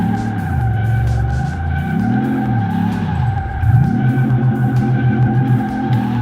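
Engine of a 1963 Chevrolet Impala SS resto-mod in Car Mechanic Simulator 2018 drones steadily in 4th gear, with tire squeal rising and falling in waves over the constant hum.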